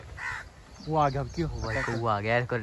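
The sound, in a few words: crows cawing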